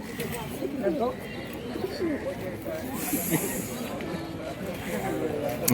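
Pigeons coo in low, repeated throaty bursts at a crowded bird market in Birnagar, mixed into steady nearby human talk and general market bustle.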